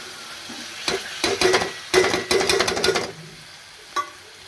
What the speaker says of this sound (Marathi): तर मी टाकते आता त्याच्यामध्ये भाज्या सगळ्या